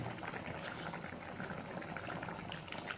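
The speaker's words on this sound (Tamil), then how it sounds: "நல்லா கொதிச்சு வந்துடுது" Curry sauce boils steadily in a pot, a dense continuous bubbling and simmering that stays close and even throughout with no talk.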